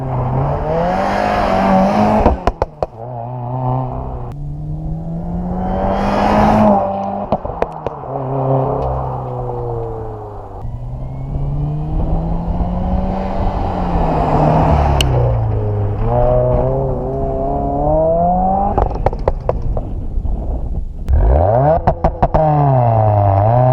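Twincharged Subaru WRX driving and cornering, engine droning loud and close throughout with rising and falling revs through gear changes and a sharp rev climb near the end.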